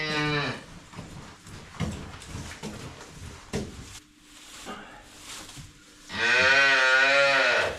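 A Frisian cow with her newborn heifer calf on a farm lets out a loud, close moo that rises and falls, with shorter lowing sounds before it and some farmyard background noise.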